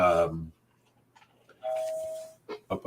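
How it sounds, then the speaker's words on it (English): A single electronic chime rings out clearly after a stretch of quiet, following a brief bit of talking, with a few voice fragments after it. "That was my doorbell."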